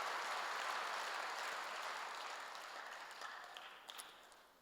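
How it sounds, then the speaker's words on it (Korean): Congregation clapping during a church sermon, a soft, distant wash of applause that fades gradually over a few seconds, heard alone without talk. "박수하세요."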